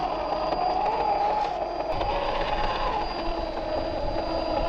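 RC Jeep Wrangler crawler with a brushless motor spinning its wheels in wet sand, a steady high electric whine over a grainy churning rumble, close and continuous.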